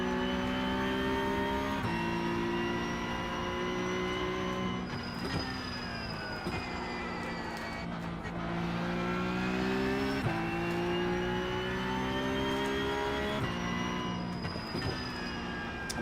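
A race car engine at Imola drones steadily, its pitch stepping down through several downshifts and then climbing again between changes, heard up close and continuous without any talk.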